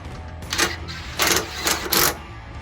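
A 10mm impact wrench tightens bolts on a mini bike with a stock engine, firing four short rattling bursts over a steady low background hum, close and loud.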